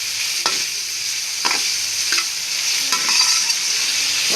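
Vegetable fried rice with tomato and green chilli hisses loudly in a hot pan, the bright sizzle cut by about four distinct scraping stir strokes.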